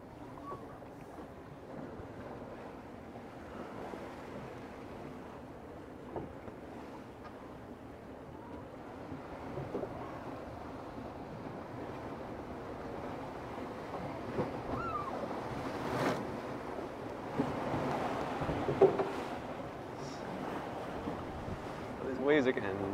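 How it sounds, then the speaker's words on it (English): Steady rushing wash of ocean waves and wind, with sloshing water building louder toward the end, heard aboard a 60ft hydrofoil racing sailboat in rough water; no talking. "Waves are getting nasty."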